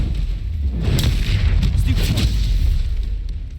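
A Bombarda spell detonates in Hogwarts Legacy, a heavy booming blast over a dense, rumbling combat mix, loud and close, with a voice calling out spells.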